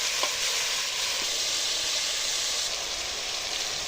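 Meat and onions sizzle in hot oil for country chicken rasam, a continuous dense crackling hiss heard up close with no talking.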